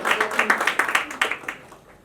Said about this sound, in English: join me please in extending a huge round of applause and welcome to the man who redefines energy and purpose, Mr. Vivek Shetty